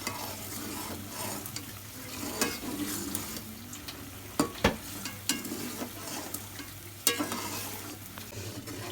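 Yogurt masala fries in ghee and is stirred in a pan, a steady close sizzle broken by scraping spoon strokes and occasional sharp clicks against the pan, with no talk.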